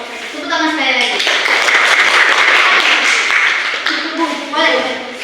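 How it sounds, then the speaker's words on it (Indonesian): Classroom of students applauding a group presentation: loud, dense clapping from many hands close by, lasting several seconds, with children's voices calling out over it at the start and end. "Tepuk tangan sekali lagi."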